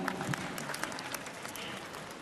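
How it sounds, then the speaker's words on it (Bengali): Audience applause at a television performance award ceremony, a dense, steady wash of clapping from a crowd filling the hall, with faint voices underneath. "হাততালি জোরে জোরে হাততালি হবে"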